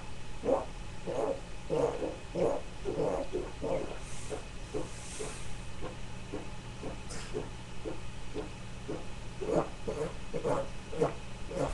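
A boy imitates a frog with his voice, giving a string of short rhythmic croaks in steady bursts with brief pauses, close to the microphone over a faint background hiss.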